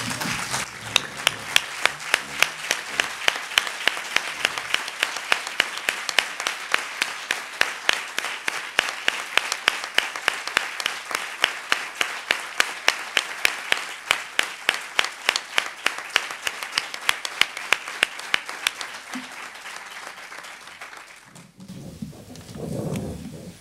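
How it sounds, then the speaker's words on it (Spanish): Standing audience applauding an anniversary at a cancer association gathering, with a long, steady burst of dense clapping that slowly thins, then stops abruptly near the end as a voice begins speaking. "que nos pongamos todos de pie y aplaudamos estos 20 años"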